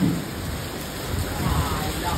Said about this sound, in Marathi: फुल पाऊस आलाय आता.